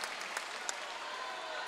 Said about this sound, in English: Earns himself a round of applause as he hits the bench.